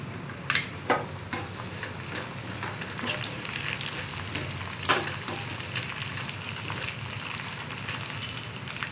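Dried red chillies fry in oil in a pan with a continuous crackling sizzle, close up. A few sharp pops and ticks stand out near the start and again midway, and no one speaks.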